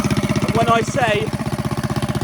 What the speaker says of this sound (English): this is just idling, now give it some throttle.